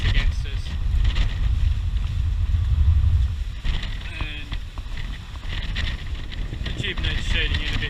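A Lagoon 400 catamaran under sail in gusty, shifting wind, heading against a current of about two knots. Steady wind buffeting and rushing water fill the clip while someone speaks over it.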